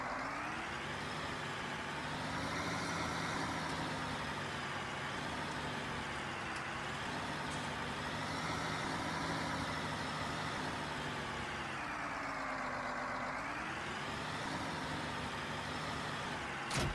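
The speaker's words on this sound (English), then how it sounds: "I'll just pull this tractor in here just like this." A tractor in the Farming Simulator game drives with a steady, loud engine drone that rises and falls in pitch as it maneuvers into a ranch shed, running continuously with no talk over it.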